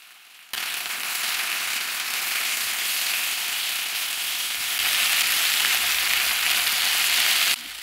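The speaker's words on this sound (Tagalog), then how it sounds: "Piprituhin lang po natin yung bawat side ng baka ng 1 minuto." Beef sears in a hot pan for a stir fry, giving a loud, dense sizzle and crackle that starts abruptly, holds steady, swells louder midway and cuts off at the end, close up with no talking.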